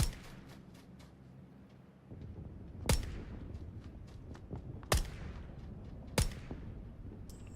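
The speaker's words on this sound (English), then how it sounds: "I'll shoot out this window, I'll shoot out that window" VSS rifle shots ring out in PUBG, three sharp, loud cracks spaced a second or two apart over low rumbling ambience.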